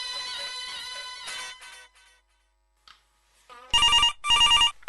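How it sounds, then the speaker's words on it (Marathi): A telephone rings in a radio station studio, first as a fading electronic tone, then after a short silence as two loud, close trilling bursts of the ringer. "सारिका मॅडम, आकाशवाणी अमरावतीला फोन."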